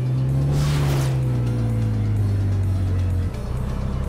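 A Ferrari Testarossa flat-twelve engine in a racing game holds a loud, steady low drone, its pitch sagging slightly before it drops off near the end, with no talking.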